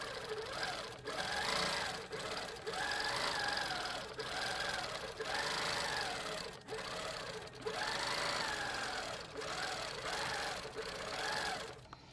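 A Handi Quilter quilting machine stitches down yarn in rapid, buzzing bursts that rise and fall in speed, with brief pauses between passes, fairly close and alone.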